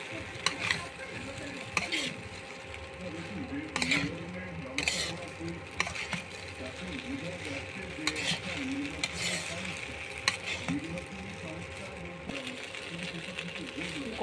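Chicken pasta sizzling in a pan as it is stirred with a utensil, giving steady frying crackle and repeated scraping strokes, while someone talks over it.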